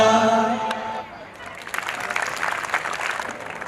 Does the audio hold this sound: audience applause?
yes